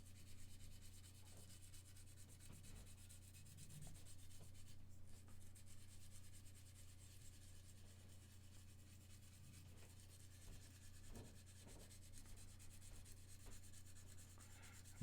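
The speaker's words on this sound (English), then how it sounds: "I'm just trying to eliminate all the sanding marks here" Sandpaper rubs against the plastic of a 1/48 mega size Gundam RX-78 model kit, soft repeated scraping strokes, faint and close, over a constant low electrical hum.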